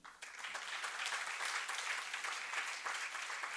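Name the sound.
devotees clapping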